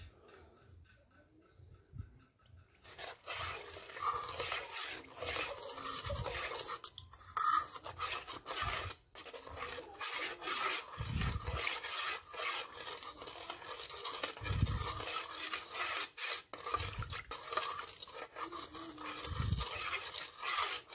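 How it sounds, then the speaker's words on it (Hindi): A mixture of sulfur, mercury paste and camphor is stirred in a container, giving repeated scraping and rasping strokes with a few low thumps, close and fairly quiet. "अच्छी तरह इसको हिलाकर मिक्स कर लेना है।"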